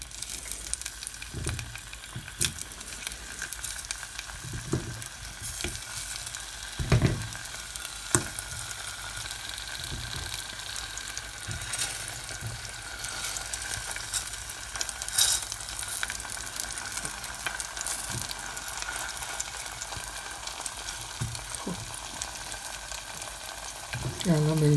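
Potato slices being laid into hot oil in a pot for Persian potato tahdig: a long, even crackling sizzle with scattered soft knocks as the pieces are placed.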